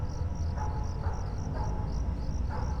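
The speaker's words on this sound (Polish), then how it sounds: "Świerszcze, świerszcze." Cricket chirping ambience in the Five Nights at Freddy's 4 video game, a regular pulsing chirp repeating about twice per second over a steady low background hum, with no voices.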